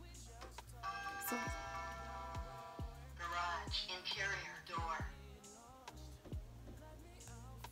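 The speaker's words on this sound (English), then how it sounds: "That was my alarm making an appearance." A bright electronic chime from a home security alarm rings out in a repeating tone pattern, followed by a synthesized voice announcement, with a person talking alongside.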